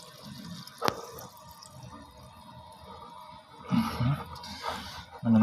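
Water running through a CNC machine's water pump under repair, connected by a hose, heard as faint trickling and dripping with a sharp tap early on and louder gushing bursts near the end, close by and without talk.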